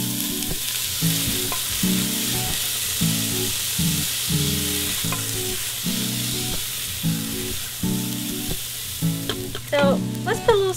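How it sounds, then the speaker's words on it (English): Onions sizzle in olive oil in a warm pot, a steady frying hiss broken by regular scraping strokes of stirring, close and fairly loud, with a few clinks near the end and no talking. "So we're gonna put those in a warm pot with some olive oil."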